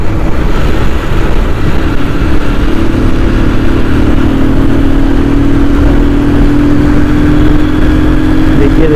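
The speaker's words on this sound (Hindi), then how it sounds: "इस रोड पे मेरी बाइक अभी भाग जाती है 120, 130" A motorbike speeds along a road, its engine droning steadily and loudly with constant wind rush, heard from the rider's position without a break.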